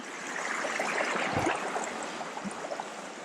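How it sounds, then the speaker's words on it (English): A creek in northwest Montana flows with a steady, close rushing and trickling wash of water that holds at an even level throughout, with no talking. "So this is a creek that we saw earlier."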